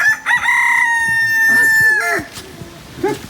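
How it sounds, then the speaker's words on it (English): A rooster crows one long, loud cock-a-doodle-doo close by along the Camino Francés, followed by a few soft clucks and low farmyard noise. "Cock-a-doodle-doo!"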